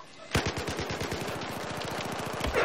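Rapid automatic gunfire from Battlefield 4, beta on Xbox 360: one sustained burst of fast, evenly spaced shots, loud and close, running for about two seconds.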